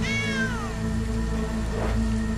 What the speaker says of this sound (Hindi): अरे ये तो छोटी सी बिल्ली है।